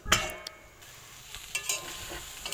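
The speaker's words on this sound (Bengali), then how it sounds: "তেলের উপর আমি পেঁয়াজ দিয়েছি পেঁয়াজটা ভাজা হয়ে গেলে আলু আর মটরশুঁটিটা দিলাম তারপর টমেটোটা দিলাম" Onion, potato, peas and tomato fry in a pan with only a little oil, giving a faint sizzle broken by a few sharp clinks and scrapes of stirring, with no talking.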